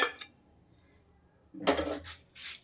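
Spoon scraping against a bowl while a ground poppy seed and mustard paste is emptied into it: a brief clink at first, then a quiet pause, then two rougher scraping strokes close by.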